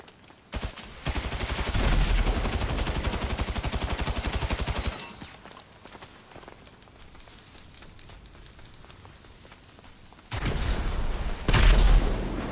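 Bursts of rocket blasts and rapid gunfire in a GTA V Online deathmatch: a loud dense barrage for several seconds, a quieter stretch of scattered distant shots, then another heavy volley with a booming blast near the end.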